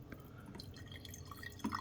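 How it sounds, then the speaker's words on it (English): Vinegar trickling and dripping into a glass container, a steady soft liquid patter with a brighter splash near the end, close and fairly quiet. "I'm pouring vinegar in there."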